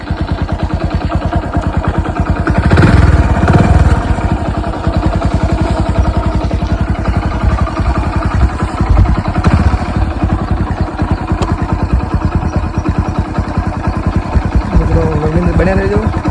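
Royal Enfield Bullet motorcycle with a dead battery, kick-started and then thumping at a steady idle, its rapid even beat close and loud, with brief voices over it.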